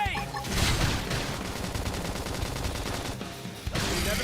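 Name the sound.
flame grenade in Xenoblade Chronicles X video game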